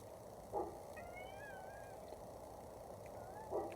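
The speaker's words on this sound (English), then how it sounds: "and a meowing cat" A domestic cat meows a few times indoors, with soft rising and falling cries near the middle and end, quiet against a low room hum, with faint bumps at the start and finish.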